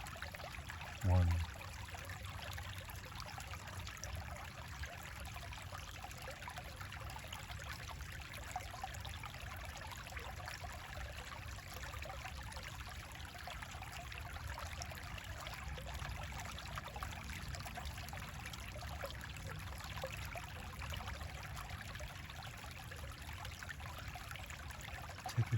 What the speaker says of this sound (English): Take a few moments now and enjoy the sound of the running water